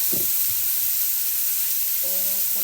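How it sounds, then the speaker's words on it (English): Mushrooms sizzling in a pan for chicken Marsala, a continuous bright frying hiss with a few soft clunks of food or utensil. "So now we're gonna go ahead and put our mushrooms in here."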